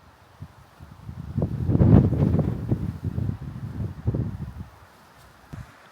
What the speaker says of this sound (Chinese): 感觉这个地形比较特别吧，然后导致这个风声就感觉好奇怪，到处都是这种。